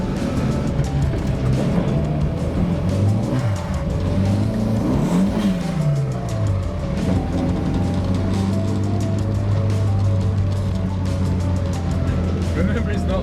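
A car drives on the road with a steady engine drone from inside the cabin, the pitch rising and falling as it accelerates and shifts, while people talk over it.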